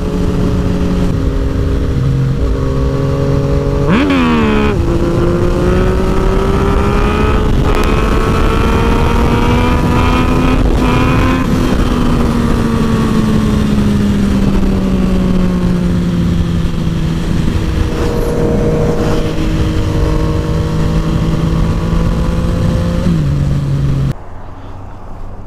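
Yamaha FZ09/MT09 motorcycle engine under way while riding, loud and close throughout, its pitch rising and falling with throttle and gear changes including a sharp rev near the start, then dropping away at the end.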